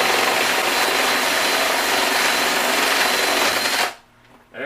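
A drill fitted with a paddle bit grinds through plastic in one loud, sustained, harsh whirring burst that stops abruptly near the end, followed by quiet handling noise.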